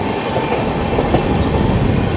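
A long-distance passenger train from Jammu to Tirupati rolls along the rails with a loud, steady rumble and faint clickety-clack, heard from inside the carriage.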